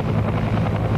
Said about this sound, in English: With Kelly seriously wounded, the stricken Huey managed to struggle back to base.